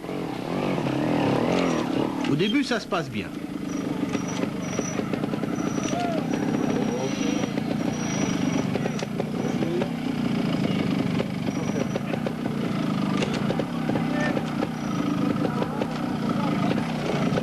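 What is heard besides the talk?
Fantic trial motorcycle riding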